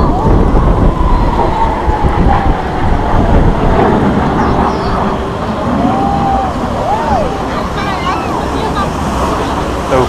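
A Blue Angels jet flies over the Golden Gate Bridge during the San Francisco Fleet Week air show, a loud, sustained jet roar heard over crowd chatter and wind, with voices speaking throughout.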